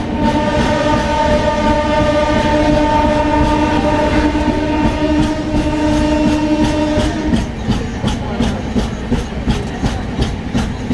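The Tirumala Express passenger train runs loud and close, with a long sustained horn blast over the heavy rumble, followed by steady rhythmic wheel clatter.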